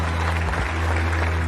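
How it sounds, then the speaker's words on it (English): An audience applauds news of a Canadian astronaut joining the Artemis crew bound for the moon, a brief, steady burst of clapping over a low constant hum. "Yeah, you can clap for that."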